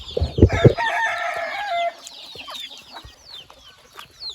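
Native country chickens cluck close by, with a rooster's crow rising early and softer clucks and chirps trailing off afterward.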